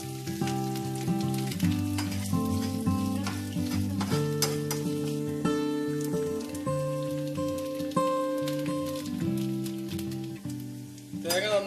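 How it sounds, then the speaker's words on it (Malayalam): Small chopped coconut pieces fry in a little oil in a pan, with a continuous crackling sizzle and stirring scrapes up close, while music plays loudly over it. "ഞാൻ പാൻ വെച്ചിട്ട് അല്പം എണ്ണ ഒഴിച്ചിട്ടുണ്ട് അതിലേക്ക് തേങ്ങ ചെറുതായിട്ട് നുറുക്കിയതാണ്"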